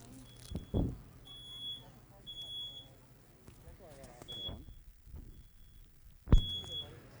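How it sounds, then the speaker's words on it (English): Smoke detector alarm going off at a fire station open house, with short high electronic beeps repeating intermittently amid scattered thumps and background noise, fairly faint. "So as you can tell, the smoke detector went off pretty quickly."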